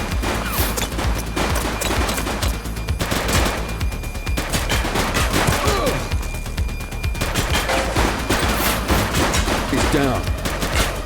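Loud video-game gunfire in Averno City Patrol, a police shootout with repeated rapid bursts and volleys of shots, voices shouting over the firing.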